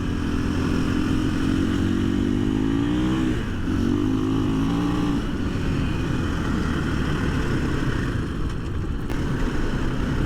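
2024 KTM 500 EXC-F on stock ECU mapping, a close, loud single-cylinder engine note holding steady, rising briefly with throttle, then dropping into a lower-revving drone with wind noise.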